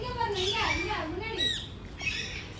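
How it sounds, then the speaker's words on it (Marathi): Alexandrine parakeet at Vandalur Zoo in Chennai giving harsh, raspy squawks in a few close, loud bursts, with someone talking alongside the calls. "अलेक्झांड्रियन पॅराकीट. ते पोपट आहेत वेगवेगळ्या"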